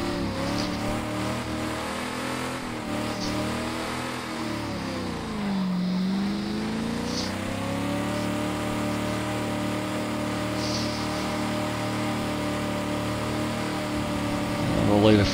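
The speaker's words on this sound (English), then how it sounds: "we'll have some donuts instead" A 1992 Ford Falcon EB does donuts in a suburban driving video game. The engine revs and idles in sweeping rises and falls, with faint tyre sounds and a voice speaking over it.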